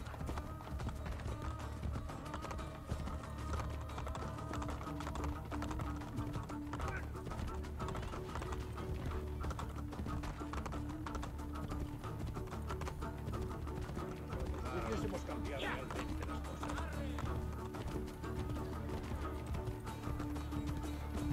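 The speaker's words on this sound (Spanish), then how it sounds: "los caballos aquí no sé por qué son tan, pero tan lentos" Horse hooves gallop in a steady, continuous clip-clop through a Renaissance-era scene in Assassin's Creed: Brotherhood, loud and close, with voices talking over the ride.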